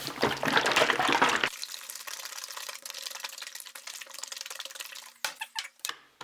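A container of milky liquid soft plastic is shaken before heating, giving a loud burst of sloshing and splashing, then quieter fizzing liquid movement and a few closing knocks.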